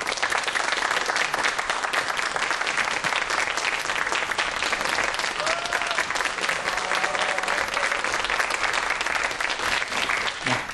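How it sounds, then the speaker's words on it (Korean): Sustained audience applause fills a lecture hall as a physics professor is welcomed onto the stage, dense and steady from start to finish without any talk. "큰 박수로 맞이해 주십시오"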